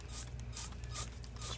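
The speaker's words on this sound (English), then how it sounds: "So now I'm just going to spray it over in other areas just to see, do we have anything else going." Four short hissing sprays of soapy water from a spray bottle onto a tire, evenly spaced and close, over a low steady background hum.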